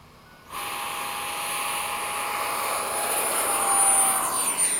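An FMS 70mm F/A-18 electric ducted fan model jet on 6S 30C 4000mAh packs passes at about 120 mph at sunset, its steady high whine starting suddenly and holding loud and even.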